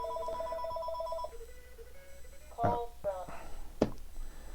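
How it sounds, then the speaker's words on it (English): A telephone rings with an incoming call, a steady repeating electronic trill in short pulses that then breaks off, followed by bumps and handling noise. "I'm getting a phone call."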